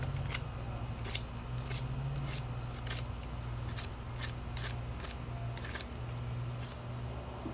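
Knife trimming down a wooden stick for a figure 4 trap, a series of short crisp shaving strokes repeating at an uneven pace, close and fairly quiet over a low steady hum.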